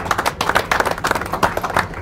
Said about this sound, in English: Let's give Gary a round of applause in the 3C.